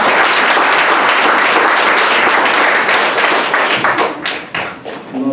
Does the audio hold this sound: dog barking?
no